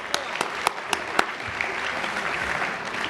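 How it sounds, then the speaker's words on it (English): An audience at a chamber of commerce awards evening applauds its MC, with a brief round of clapping that opens with a few sharp separate claps and builds into a steady wash over about three seconds. "Big round of applause for Bernadette for being a wonderful MC tonight."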